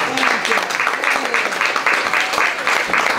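Audience applause for students at a panel event, a steady wash of many hands clapping throughout at moderate loudness, with faint voices mixed in underneath.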